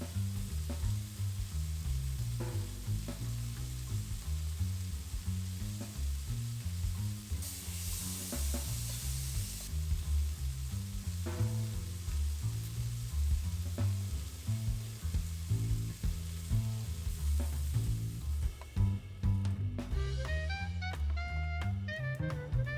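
Beef tenderloin pieces sizzling steadily in a hot pan, a loud continuous frying hiss with occasional stirring and scraping, no voices.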